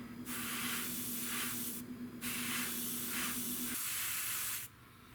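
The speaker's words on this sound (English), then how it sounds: "This is just air right now, just trying to encourage a little bit of drying action." Airbrush blowing plain air over freshly painted scale model parts for a Tamiya P-47M build, a steady close hiss in several long bursts separated by short pauses.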